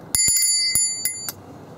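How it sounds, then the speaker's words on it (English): A small old doorbell, a flea market find, rings with bright metallic dings, several quick strikes followed by a few spaced single rings, each leaving a short shimmering tone, close and clear with no talk. "A little doorbell, that was five."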